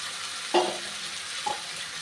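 Steady sizzling as eggs go into fried spice paste in a pan for egg biryani, a soft continuous fry with a couple of faint clinks and no voices.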